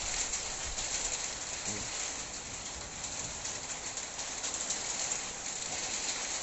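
Steady broadband rain hiss with wind at the start of a downpour, recorded outdoors at a rural Thai home, continuous and moderately loud throughout.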